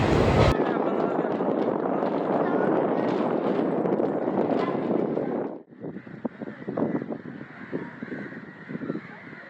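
Strong gusty wind roars and buffets the microphone, then drops to a lighter rustle with some faint talking in the background.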